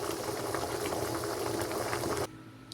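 Sweet and sour sauce for tilapia bubbling in a pan, a dense steady simmering hiss and bubble that runs loud and even, then abruptly falls away to near quiet.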